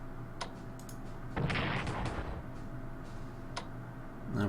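Artillery shelling of a garrison in the World War strategy game Strategic Command, a single muffled blast with a brief rumbling tail among faint clicks and ticks.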